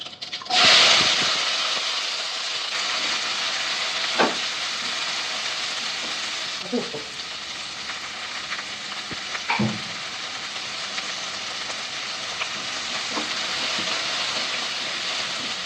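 Onions, green chillies, shallots and curry leaves fry in a pan, sizzling steadily after a loud initial hiss, with occasional stirring clinks and scrapes breaking through.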